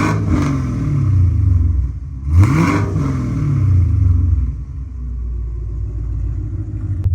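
A 2016-or-later Cadillac CTS-V fitted with an EOS axle-back exhaust, valves open, rumbles loudly up close, with a sharp rev swelling and falling midway before settling back to a deep idle burble.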